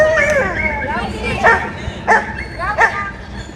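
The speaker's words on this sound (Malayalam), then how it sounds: "ഈ 2 പട്ടികൾ അങ്ങോട്ടും ഇങ്ങോട്ടും സ്നേഹമില്ല" Two hostile dogs in Panama City snarl, yelp and bark in several sharp, closely spaced bursts, with a whining growl at the start and a tense squabbling rhythm close by.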